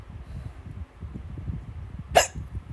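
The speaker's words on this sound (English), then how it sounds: "Hiccups!" A single sharp human hiccup sounds near the end, standing out above a low, steady background rumble, with no talking.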